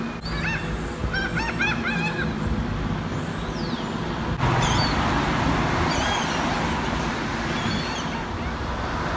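Seagulls on a Virginia Beach shore squabbling over food, sharp squawks and cries rising over steady surf and road noise, mostly mid-distance, continuous throughout.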